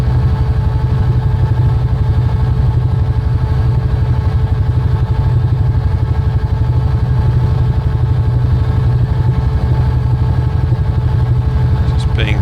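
A UH-1H Huey helicopter engine runs steadily in Microsoft Flight Simulator, giving a loud, continuous low rumble with a rapid rhythmic beat, and a voice talks over it throughout.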